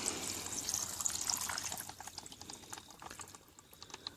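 Water poured out of a bowl, a steady close splashing trickle with bright watery spatter running throughout.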